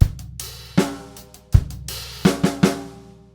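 A short fill on a snare drum, two sixteenth notes and an eighth note, struck sharply and close within a rock-pop groove, with kick and cymbal hits around it.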